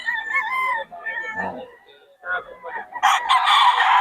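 Chickens and a rooster at a backyard breeder in Bocaue: a rooster crows clearly nearby, with scattered clucks and short calls around it and someone talking briefly.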